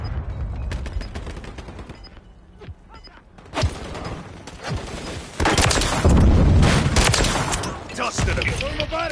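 Gunfire from a decoy grenade in Call of Duty, bursts of rapid shots and booms that grow denser and louder toward the end, with scattered sharp cracks and game noise.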